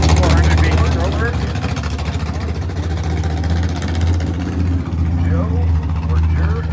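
Drag racing car with a B1-headed low-block 400-based stroker engine, a loud rough idle burbling nearby at an old-time drag meet, with voices and an announcer talking over it.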